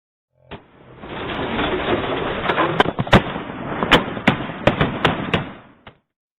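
Police gunshots during an officer-involved shooting in Jacksonville, caught on a body-worn camera: a burst of sharp, loud cracks in a quick irregular series over a rough, noisy rumble.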